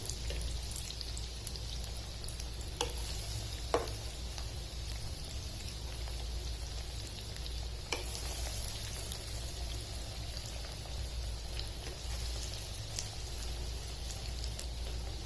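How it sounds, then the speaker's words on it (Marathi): Sweet potato cutlets fry in oil in a nonstick pan over a medium flame, giving a steady, even sizzle with faint pops throughout. No one speaks. "मीडियम फ्लेमवर आता आपण हे व्यवस्थित फ्राय करून घ्यायचे।"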